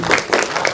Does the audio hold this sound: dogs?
no